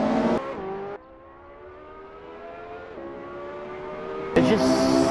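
A hybrid hypercar, a Porsche 918, McLaren P1 or Ferrari LaFerrari, accelerates in the racing game Assetto Corsa, with a rising whining engine tone climbing through gear changes, loud and close, with a brief burst of noise at the start and end.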